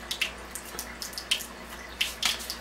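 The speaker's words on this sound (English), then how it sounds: "Rinse it out with some clean water, and then dry it off really good" Tap water splashes while a machine cleaning cartridge is rinsed under it, giving faint, irregular splashes and drips in short bursts against a quiet background.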